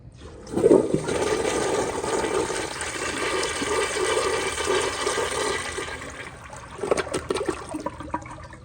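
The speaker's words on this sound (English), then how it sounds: "So here is another flush." A new-old-stock 1994 Eljer Kindergarten toilet with thick porcelain and a mid-mounted tank flushes. A loud whoosh of rushing water is followed by a steady several-second swirl and then trickling refill sounds, heard close up.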